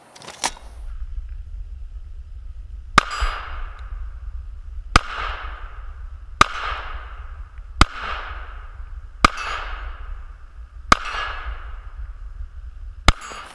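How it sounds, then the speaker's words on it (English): Pistol shots from an S&W M&P 9 Shield fired at steel targets about 20 yards away outdoors, eight sharp evenly spaced reports roughly every one and a half seconds, each followed by a ringing metallic ping over a low steady rumble. "we're going to load up now and we're going to shoot some steel at about 20 yards"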